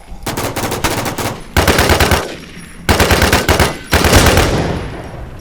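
Automatic gunfire in the online survival shooter Infestation: four loud, rapid bursts of machine-gun fire separated by brief pauses, close and dominant, with no speech over the shots.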